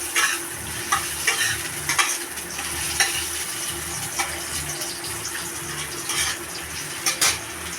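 Onions fry in oil in a pot for goat meat curry, a continuous close sizzle with repeated stirring scrapes and clatters, no talking.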